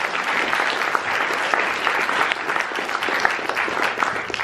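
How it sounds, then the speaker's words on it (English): An audience claps steadily and fairly loudly throughout, a dense patter of many hands after a student team's presentation, with no voices standing out. "give him a big applause."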